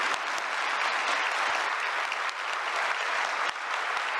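Applause for INSS staff at a Brazilian government ceremony, a continuous wash of clapping from a large audience, loud and unbroken from start to finish.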